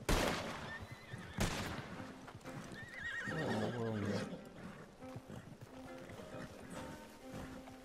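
Video game horses whinny and neigh loudly alongside clip-clopping hooves as they run and knock a player down, with game noise layered over the calls.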